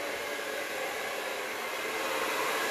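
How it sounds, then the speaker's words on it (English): A steady, even hair dryer whoosh on a low, cool setting, continuous airy noise close to the ear with no voices. "Got my hairdryer, it's set to cool"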